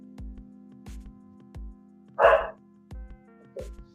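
A husky gives a single sharp bark midway, followed by a fainter short yip, over a steady low hum and regular soft thumps nearby.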